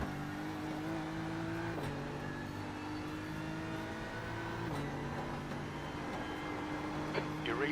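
BMW GT3 race car in practice at Road Atlanta, a steady engine drone holding through the clip with brief shifts in pitch, alongside faint background noise and no clear speech.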